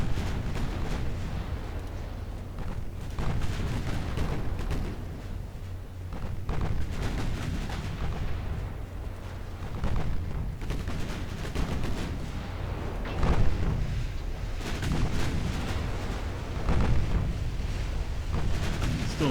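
Naval gunfire in the warship game Ultimate Admiral Dreadnoughts, a dense continuous roar of booming shots and blasts with repeated heavier reports standing out, loud and unbroken throughout.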